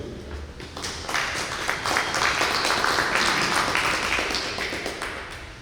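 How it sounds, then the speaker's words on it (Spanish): An audience at a Spanish-language lecture on traditions gives a speaker a warm, sustained round of applause: many hands clapping densely, swelling after the first second and holding steady throughout with no talk over it. "Un fuerte aplauso para él."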